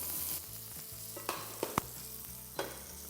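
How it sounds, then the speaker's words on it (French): Floured veal sweetbreads and asparagus fry in two pans, a steady close sizzle broken by a few sharp clinks and knocks of utensils against the pans, with no voices. "J'enlève l'excédent et je poêle de chaque côté. Dans l'autre poêle, je place mes asperges."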